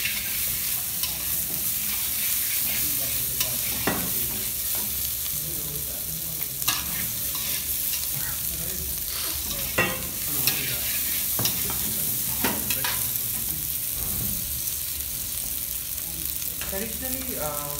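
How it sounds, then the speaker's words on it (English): Potatoes and papaya stir-fry in ghee for shukta, giving a constant close hissing sizzle broken by scattered scrapes and clicks of a stirring spoon against the pan. "After you stir fry the potatoes a bit, then put your pepe in, your papaya."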